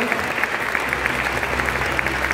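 An audience at a digital media meetup in Bursa breaks into steady, dense applause as a guest is welcomed on stage, a continuous close wash of clapping hands.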